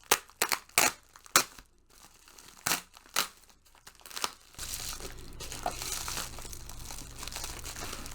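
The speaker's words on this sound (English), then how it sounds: "Let's open this up. Let's try not to actually rip the bag." A plastic book club mailer bag being opened by hand, with sharp close crinkles and tearing rustles in bursts, then a longer continuous crumpling and rustling as the bag is handled.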